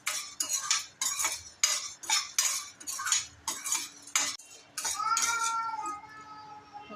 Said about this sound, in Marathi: आता चणा डाळ भाजून घेते, पण थोडीशी लालसर करते